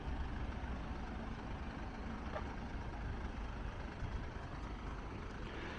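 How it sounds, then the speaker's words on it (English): A vehicle engine idles steadily nearby, a low continuous rumble without any change in pace. "how long this engine is running for"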